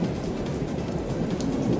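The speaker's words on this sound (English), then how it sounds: "We got a thunderstorm on the moon." A video-game thunderstorm on the moon in Paper Mario: The Thousand-Year Door remaster: constant rain hiss over a deep, even thunder rumble, unbroken and fairly quiet, with no one speaking.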